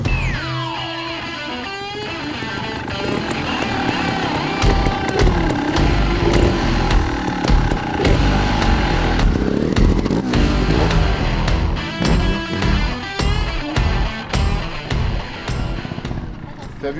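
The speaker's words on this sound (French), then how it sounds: "je vais leur faire un petit tour de moto" An off-road motorcycle revs and runs nearby on a dirt course, its engine climbing and falling in uneven bursts, loud and close, with clattering knocks and occasional voices mixed in.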